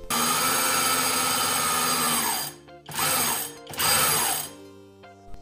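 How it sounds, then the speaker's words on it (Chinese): The electric bell of an old magneto telephone rings in a loud, close, continuous metallic trill with two brief pauses, triggered by shorting its line terminals and pressing the test button, with no speech. "短接甲乙线桩，按住测试按键，可以启动自身的电铃"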